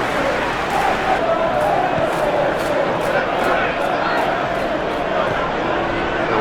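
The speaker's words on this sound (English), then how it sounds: "And this crowd has something to cheer." Stadium crowd in the PES 2021 football video game roaring and cheering throughout, a dense sustained swell of voices with rhythmic chant-like pulses, under continuous match commentary.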